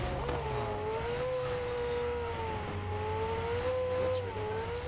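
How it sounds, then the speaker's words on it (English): A McLaren engine in a video game hums steadily with a smooth rising and falling whine, fairly quiet and alone, with faint tire noise under it. "I'm gonna get my ride. Gotta get my McLaren."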